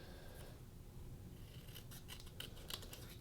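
Scissors snipping through paper, a faint series of quick crisp cuts clustered in the second half over a low steady background hum, with no voices.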